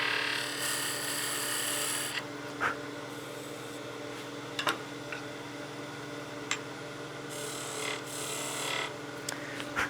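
A short-handled skew chisel cuts a wood spindle on a lathe while turning a Christmas gnome, giving a steady rasping hiss in bursts broken by brief pauses and a few sharp ticks, over a constant motor hum.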